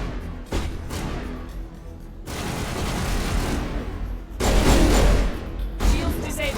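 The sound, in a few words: pistol gunfire in the video game Mass Effect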